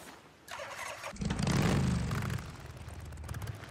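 A motorcycle engine in the video game Days Gone starts up and revs briefly, a short rising roar that settles back to a rumbling idle.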